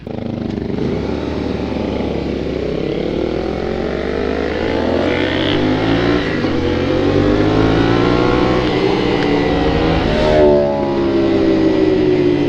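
A Nissan 370Z engine revving up repeatedly, loud, pitch climbing and falling as it accelerates close by, with no talking.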